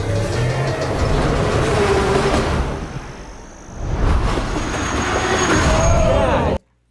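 Continuous rumbling roar of a train riding along the rails, loud and close throughout, with a brief dip midway before the steady rolling noise returns and then cuts off abruptly.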